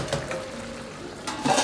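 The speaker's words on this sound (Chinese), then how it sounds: "盖上锅盖，继续炖制" A metal lid clanks down onto a wok where duck is stewing in water, a brief clatter near the end after a soft simmering background.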